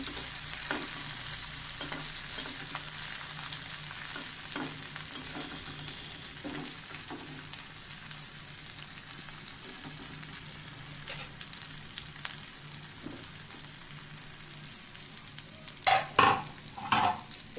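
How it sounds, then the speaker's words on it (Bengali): Shing fish frying in oil in a covered pan, giving a continuous hissing sizzle with scattered pops and crackles, close and steady, with a burst of louder clatter and spattering near the end. "মাছটা ফিট হয়ে গেছে এখন উল্টিয়ে দেবো ঢেকে ভাজলাম"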